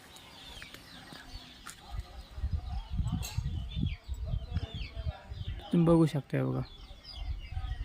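Chickens cluck on a village farm where poultry are raised, with large hens among the birds; soft, scattered clucks and a couple of louder, nearer calls, heard under someone talking.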